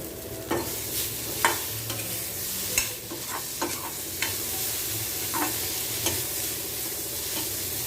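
Potatoes and onions fry in oil for a mint potato masala, giving a continuous close sizzle with occasional sharp scrapes and knocks from stirring.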